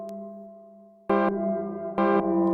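Nymphes synthesizer with its odd built-in reverb: a faint decaying tone, then two loud bright chord stabs, each ringing briefly with a strange metallic shimmer.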